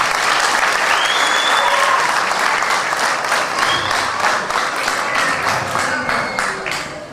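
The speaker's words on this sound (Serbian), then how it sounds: "Molim vas jedan veliki aplauz za sve." An audience at a Serbian People's Party (SNP) day event breaks into dense, sustained applause that stays loud and steady, then thins slightly toward the end.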